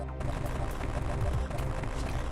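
Bomb blasts from the video game AM2R fire in a rapid string of sharp bursts and thuds over a steady game soundtrack drone, loud and close, with no talk over them.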